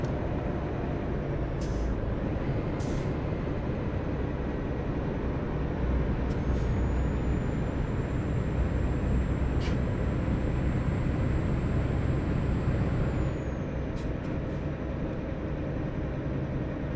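Heavy truck in Euro Truck Simulator 2 with a steady loud engine drone throughout, brief air-brake hisses appearing as short bursts, and a long tonal whine held through the middle.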